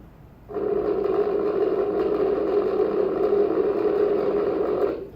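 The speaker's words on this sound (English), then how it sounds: "if you ever heard a rocket launch, it would sound like this" A broad, steady roar like a rocket launch starts abruptly and rumbles evenly for several seconds before cutting off.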